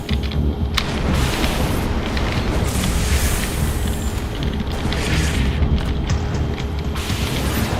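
Artillery explosions in Halo MCC during a desert battle, a dense roaring rumble of heavy booms and blasts that stays loud and continuous, with sharper impacts breaking through at intervals.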